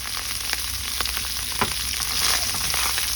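Pork, onion and carrot fry in a pan with a steady crackling sizzle, scattered pops and occasional stirring scrapes, close and continuous with no talking.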